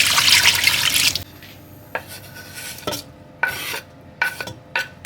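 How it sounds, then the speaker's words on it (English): Water poured into a pot of okra soup and stirred, a loud splashing pour at first followed by quieter scraping stirs and intermittent clinks close by. "This will just add a little bit of water inside."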